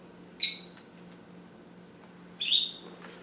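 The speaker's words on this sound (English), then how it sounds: "Oh, shut up, bird." A pet bird indoors gives two short, sharp high chirps about two seconds apart, close by and clear against a quiet room hum.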